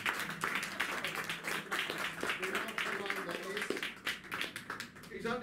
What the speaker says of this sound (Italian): un applauso per Mr. Dennis Stratton.